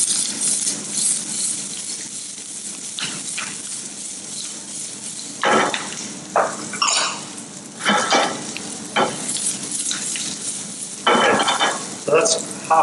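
Minced garlic and ginger frying in hot oil in a pan, a continuous sizzle broken by repeated scraping and clanking strokes of a utensil against the pan as it is stirred, close and fairly loud.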